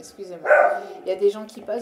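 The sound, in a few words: dog barking at passers-by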